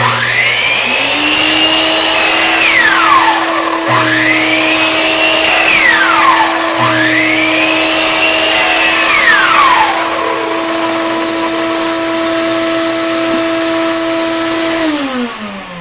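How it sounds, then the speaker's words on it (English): A miter saw makes several cuts through small pieces, its motor whining up and down three times over the steady loud roar of an automatic shop vacuum that runs throughout, close by and with no talking. "I'm already on automatic shop vac, every time I pull the trigger, it's going to come on for me"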